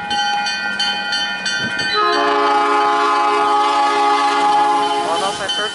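CN freight train 568 sounds a multi-chime horn, a loud sustained chord starting softly then swelling into a long blast before cutting off, with rail rumble underneath.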